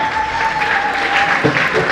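Steady applause from an audience at a secondary school graduation ceremony, honouring a school leader; continuous, even clapping throughout, with a faint thump near the end.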